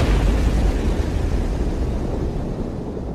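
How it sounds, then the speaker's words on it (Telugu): A big explosion erupts as a magic diamond hits the ground in an animated horror story, a loud, sustained roaring rumble that fills the short clip and slowly fades without any talk. "ఆ వజ్రం నేలను తాకగానే పెద్దగా విస్ఫోటనం."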